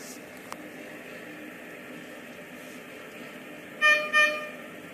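A tram's horn sounds as two short, close toots near the end, each a buzzy harmonic tone, over steady background rumble and hiss with no talking.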